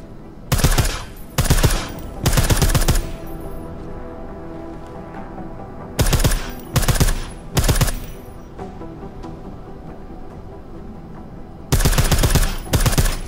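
A silenced M4 rifle in a video game fires in three clusters of rapid bursts, separated by quieter gaps of low background ambience, each volley close and punchy.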